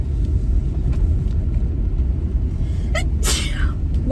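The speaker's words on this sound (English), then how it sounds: "I have to sneeze." A single sharp sneeze near the end, loud and close, cutting through the steady rumble of a car interior while driving.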